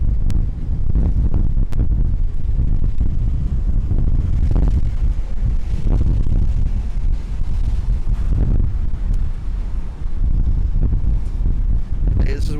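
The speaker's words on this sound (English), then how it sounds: "super windy up here" Strong wind buffets the microphone on the open forward sports deck of the Disney Wonder cruise ship, a loud continuous low roar with gusts that sits under people talking nearby.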